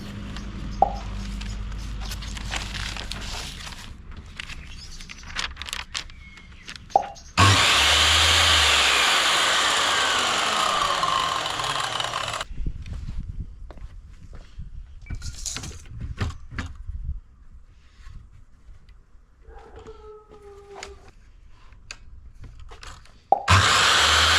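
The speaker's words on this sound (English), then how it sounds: "In order to cut down the wood, I will be using a miter saw and cut them to size" A miter saw whines loudly through a wooden platform board for several seconds, surrounded by quieter clattering and handling noises before and after the cut.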